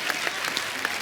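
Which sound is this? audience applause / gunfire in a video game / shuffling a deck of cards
audience applause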